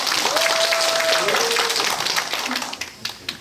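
Audience applause at a Busan biodiversity survey sharing session at Geumjeongsan, a dense steady clatter of many hands that holds strong and then tapers off near the end, with a faint whistling tone early on.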